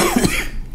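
A single harsh cough from a person recovering from illness, close and loud, a short rough burst that fades quickly.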